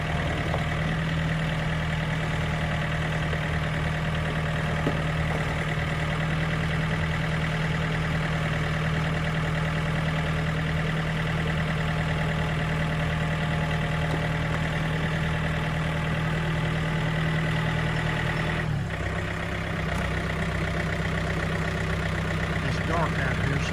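A 2007 John Deere 110 diesel loader with a quick-attach front bucket idles outdoors at night, its engine holding a constant low, even drone throughout with no change in speed.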